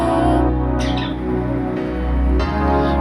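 Pet budgies chirp and tweet in quick, high bursts over a steady hum and indoor background noise, with no talking.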